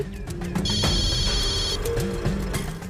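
A telephone bell rings in a repeated electronic trill through the middle of the scene, loud over a steady background of music and room sound, with no one talking.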